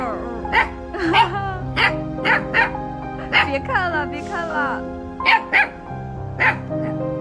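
Puppies yip and bark repeatedly in quick, squabbling bursts close by, with whimpers in between, while a person talks over them.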